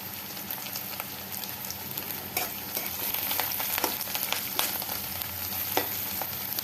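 A continuous, even crackle of onions and green chilies frying in oil in a wok, with occasional louder spits and stirring scrapes and no voices.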